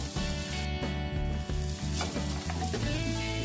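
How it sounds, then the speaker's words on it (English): Grated coconut and masala roast in a hot pan with curry leaves for a spicy, sour Mangalorean cucumber curry, giving a steady close sizzle broken by regular scraping stirs roughly every half second. "I am adding half grated coconut and roasting for 10 to 15 seconds"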